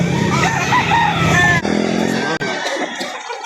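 A rooster crows loudly and close on a small poultry lot in Lipa City, Batangas, its long harmonic call lasting over a second, followed by other fowl sounds and background noise.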